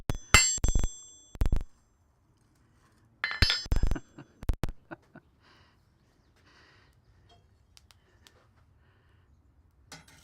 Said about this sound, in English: I mean, an anvil.